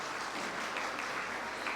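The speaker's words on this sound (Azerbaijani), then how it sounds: "Bir özümüzü alqışlayaq" Audience applause at a Cambridge exam certificate presentation ceremony, a steady wash of clapping from many hands held at an even level for a couple of seconds.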